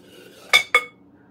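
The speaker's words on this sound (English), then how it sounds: "I'm going to rake my onions right in there." Chopped onions raked off a board into a bowl of meatloaf meat, heard as two quick, bright clinks of a utensil against the bowl close by, with faint kitchen background.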